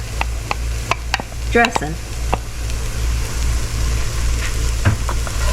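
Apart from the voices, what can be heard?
celery and onions sauteing in butter in a pan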